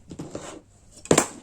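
A plastic béarnaise sauce pot being cut open, a few light scraping contacts followed by one sharp, loud crack, close up, with no voices.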